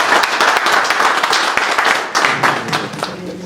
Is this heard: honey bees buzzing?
no